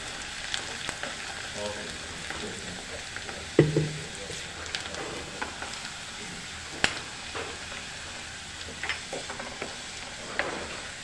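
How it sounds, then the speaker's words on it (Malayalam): Frying sizzle and spatula stirring in a pan as ingredients for a squid roast are sautéed until golden brown. A soft, steady hiss is broken by occasional scraping clicks and taps, all close by. "ചെറിയൊരു ഗോൾഡൻ ബ്രൗൺ കളർ ആവുന്നിടം വരെ നമ്മളൊന്ന് വഴറ്റി കൊടുക്കണം"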